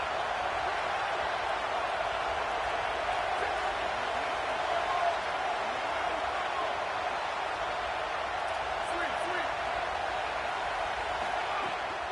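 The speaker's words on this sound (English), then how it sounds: "Here comes this home crowd as the defense tries to get off the field on 3rd down." Home stadium crowd at a football game roaring steadily during a third-down defensive play, a dense continuous wash of cheering noise filling the whole stretch at even loudness.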